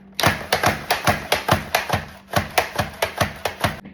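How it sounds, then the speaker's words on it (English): Onions sliced thinly on a mandoline for a peach panzanella salad, heard as a steady run of about fifteen crisp, evenly spaced cuts, close and fairly loud, with no talking. "put it on a thinner slice so that I can make the onions perfectly thin for this"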